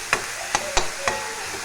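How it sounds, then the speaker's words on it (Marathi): Onions being sautéed in a pan until golden, with four sharp utensil knocks spaced through the clip over a faint, steady background of frying. "आणि लाल रंग येईपर्यंत आपणास परतून घ्यायचा आहे या कांद्याला"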